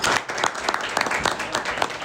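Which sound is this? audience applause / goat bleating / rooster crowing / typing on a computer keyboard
audience applause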